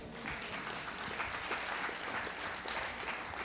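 A church congregation applauds steadily, a continuous patter of many hands clapping at moderate distance, with faint cheering mixed in.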